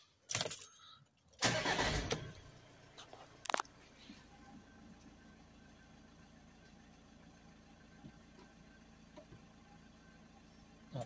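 A Volkswagen Crafter 2.0 TDI van engine cranks and starts with a loud burst, a brief jangle and a second clack, then settles into a steady low idle close by.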